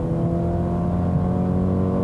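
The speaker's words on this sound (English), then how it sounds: "When you put your foot down, the 7-speed dual clutch" A 2020 Mercedes-AMG CLA 35 accelerates hard through its 7-speed dual-clutch gearbox, its engine a loud, steady, close-up drone with a strong rising tonal hum for the full two seconds, with no talking.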